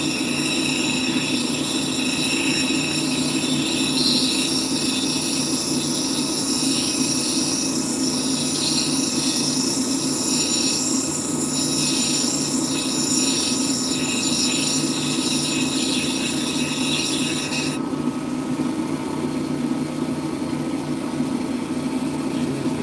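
Lapidary grinding wheels shape a cabochon with a steady, loud motor whine and continuous abrasive grinding, unbroken throughout and close up, with a slight shift in tone near the end.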